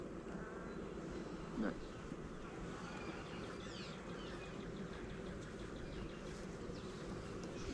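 Honey bees buzzing around a beehive, a dense, steady drone of many wings close by and filling the whole stretch, with faint background noise and no clear speech.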